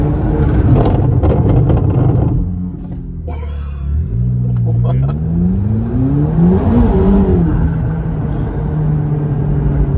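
A limited-run McLaren supercar with carbon-ceramic brakes and an active rear wing roars under load, cuts off abruptly, then its engine note sweeps down and back up as it brakes and recovers, heard loud from inside with a voice counting.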